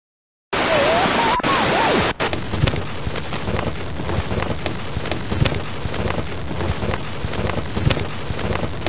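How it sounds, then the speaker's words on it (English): Steady rain hiss with gusting wind fills the scene, a synthesized weather effect from children's educational science software, continuous and dense after a brief tonal blip at the start. "Today is warm with light rain and strong winds."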